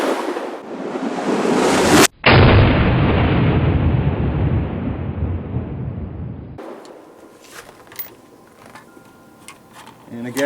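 A Bulgarian IK 520 magazine is fired in an AR-15 pistol, producing a loud, close gunshot blast with a long rolling echo, followed by quieter clicks and handling noises.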